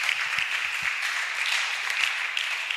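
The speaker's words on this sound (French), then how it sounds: "On acclame." Church congregation at a Sunday gathering breaking into applause, a steady dense wash of many hands clapping at moderate loudness throughout.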